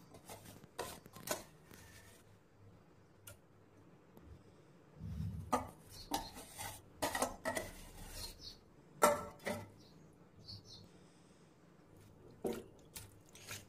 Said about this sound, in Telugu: పెరుగు అంతా కలిసేలా బాగా మిక్స్ చేసుకోవాలి.